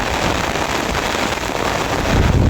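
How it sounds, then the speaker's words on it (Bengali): Dense, loud roar of heavy rain pouring down steadily, with a gusty wind swelling near the end. "অনেক বৃষ্টি দেখেন বাতাস আর পাতাগুলো কীভাবে লড়ছে"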